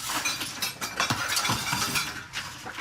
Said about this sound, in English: cleaning up debris after returning to destroyed homes